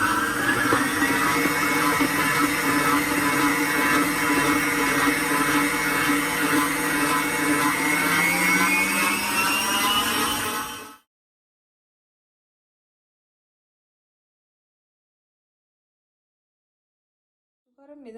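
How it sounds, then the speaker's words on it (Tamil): An electric mixer beats butter and sugar into cake batter for a chocolate cake, a loud steady whirr with a rising pitch that runs alone for about eleven seconds, then cuts off abruptly into silence. "சுகரும் இதுவும் பட்டரையும் அடிச்சிட்டோம்."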